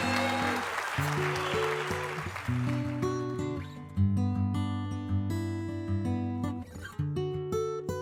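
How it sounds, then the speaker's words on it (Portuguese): Live audience applause at a recorded podcast event, a broad wash of clapping in the opening seconds that thins out as steady instrumental music carries on underneath and continues alone. "Palmas! Palmas!"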